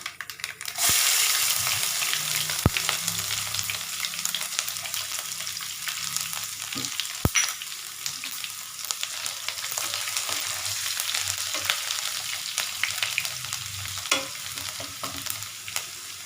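Garlic and asafoetida frying in oil, a bright continuous sizzle that starts abruptly and holds steady and close, with a few faint taps and scrapes of stirring.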